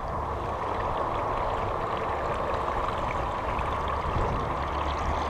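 A floating topwater lure with propeller-like duck feet churns the water in continuous splashing noise that holds steady the whole time, a dense bubbling wash without pauses.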